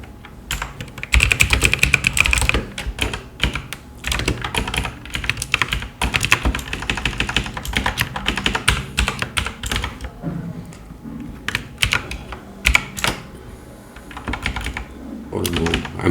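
Fingers type code on a computer keyboard in irregular bursts of close, crisp key clicks with short pauses between runs, a voice speaking faintly in places.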